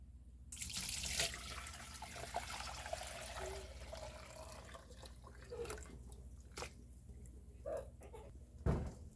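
Cheese and whey are poured from a pot into a strainer lined with flour sackcloth, giving a steady splashing, running pour close by that trails off into drips.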